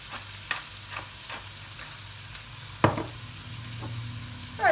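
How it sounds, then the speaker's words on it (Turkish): Chopped onions fry in a pan for köfte, with a steady soft sizzle and a few sharp scrapes and clinks of a utensil stirring them, close up and with no speech. "soğanlarımızı böyle kızartılır buraya alırız"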